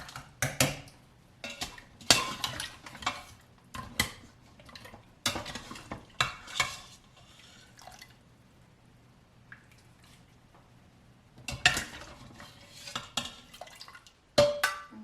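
Beef bones with plenty of meat still on them go into a soup pot for beef broth and vegetable soup, giving a series of close, sharp clunks, clatters and scrapes of pot and utensils in bursts, with quiet gaps between.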